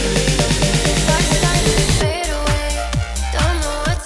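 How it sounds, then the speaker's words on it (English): A dense EDM mix playing, then a tape stop effect as the sound slows and sinks, followed by repeated deep reversed kicks that bend downward in pitch. "And now we get this tape stop effect that sounds like this."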